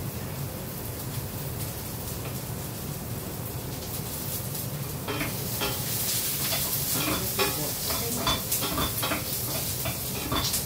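Garlic sizzles in hot oil in a pan while a utensil stirs it, a steady frying hiss that swells louder midway, with scraping strokes repeating over the crackle.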